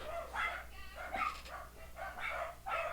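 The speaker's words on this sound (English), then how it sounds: "I have 3 dogs, so anyone that walks past their bark, that's actually really loud." Several dogs barking loudly at people walking past, a burst of repeated barks and yips at moderate distance, with a short pause before the barking picks up again.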